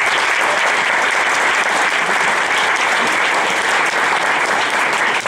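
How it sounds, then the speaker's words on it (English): Sustained, dense audience applause at a charity gala service auction, a full room clapping steadily at even volume throughout. "VIM deserves a round of applause for that."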